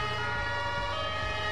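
Emergency vehicle siren in the FireFighters 2014 video game, a continuous wailing siren over engine noise, steady and fairly loud throughout.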